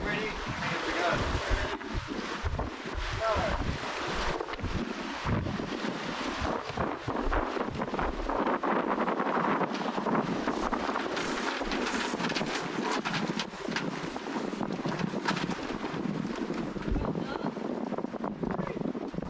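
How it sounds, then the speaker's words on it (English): A sailboat moves under sail with its engines off, a steady rush of wind and water washing along the keel, loud and continuous throughout with gusty buffeting. "When you cut the engines and just rely on the sail, all you hear is the wind and the water on the keel."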